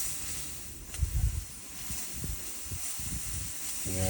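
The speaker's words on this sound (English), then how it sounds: "Steam and vacuum. But it's only going to steam." A Bollit spot cleaner with a fault gives off a steady, faint steam hiss while running in a steam-and-vacuum mode. A few soft thumps and handling bumps sit under the hiss.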